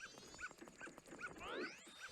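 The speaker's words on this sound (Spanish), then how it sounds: "Déjame en paz, perro estúpido." Dog barking in the video game Zelda Majora's Mask 3D: a run of regular, evenly spaced yips repeats over a busy game soundtrack, moderately loud and close.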